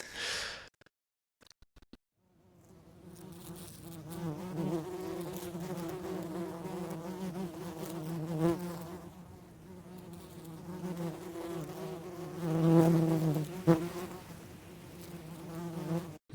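Great yellow bumblebees, Bombus distinguendus, humming inside a nest on South Uist, a steady close buzzing drone that swells and fades over several seconds after a brief quiet start.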